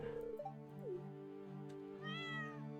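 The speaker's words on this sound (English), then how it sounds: "there's our kitty." A cat meows in the farming game Stardew Valley, several clear, tonal cries, including a rising meow late on, set against steady game background music, with no talking.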